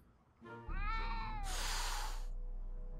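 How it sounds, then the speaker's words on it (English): A single drawn-out cat meow with a wavering pitch in a Back to the Future video game, followed by a burst of hiss-like noise over a steady low electronic hum. "every time I do that, I know it's a cat"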